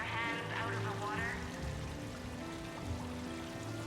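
Steady pouring water from a decorative fountain in the video game Mass Effect 3, a continuous wash of splashing with a faint voice early on.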